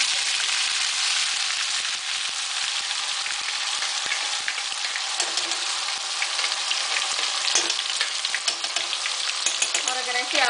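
Ground onion poured into very hot oil with cumin seeds, headed for curry leaves in a red kidney bean rajma gravy, sizzling and crackling in a dense, steady fry that runs continuously at close range.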